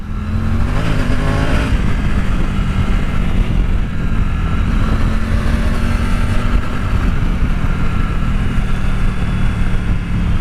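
Adventure motorcycle riding on a borrowed bike, its engine droning loud and steady throughout with strong low rumble and wind noise, no talking.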